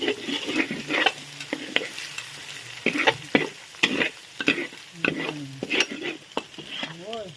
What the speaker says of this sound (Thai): อันนี้ะทำข้าวผัดไปวัดนะคะ